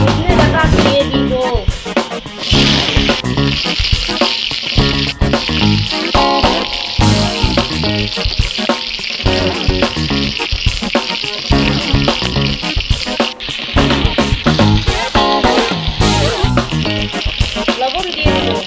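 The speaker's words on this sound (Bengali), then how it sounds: "তেল গরম হয়ে গেছে, সজনে ডাটা দিয়ে দিব।" Sajne data (drumstick pods) sizzle and crackle steadily in hot oil in a home kitchen, a loud, dense frying hiss that holds for the whole stretch with small stirring knocks and no talk.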